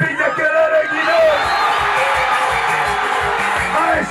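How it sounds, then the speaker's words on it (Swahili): A large crowd at a concert in Sumbawanga cheers and shouts in a dense, continuous roar, with a thumping beat underneath and someone shouting to the crowd over it. "Nasema kama unapenda Aeshi piga kelele kidogo"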